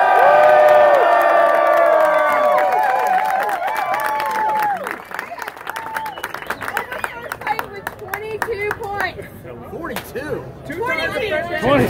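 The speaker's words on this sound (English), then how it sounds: "can everyone give Colleen a big round of applause?" A crowd at a drinking contest cheers and whoops loudly over clapping for the winner, then the applause continues with scattered shouts and excited voices talking.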